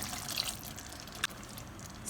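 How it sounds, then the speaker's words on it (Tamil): Water being poured into a pot of shallot sambar (small onion sambar), about 150 ml, giving a soft, steady trickle that stays quiet throughout with one brief clink near the middle. "150 ml அளவு தண்ணி சேர்த்துக்கிறேன்."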